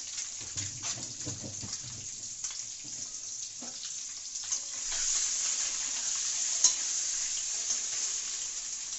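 A soft, steady sizzle of frying in a pan, quiet at first with some clatter, then growing a little louder and more even.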